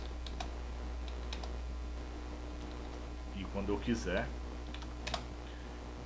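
Keys on a computer keyboard click as MS-DOS commands are typed in a short, uneven burst of taps, near and fairly quiet under a steady low hum, while someone speaks over part of it.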